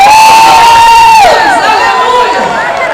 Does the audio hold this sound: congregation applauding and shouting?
yes